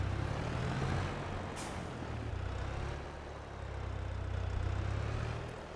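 A tractor in the farming video game Korpi drives along with a loud, continuous low engine drone that swells and eases slightly, with a faint hiss near the start.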